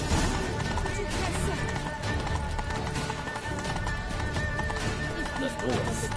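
Hoofbeats of a horse galloping in The Witcher 3: Wild Hunt, Blood and Wine, a steady continuous clatter with busy game sound and voices talking over it throughout.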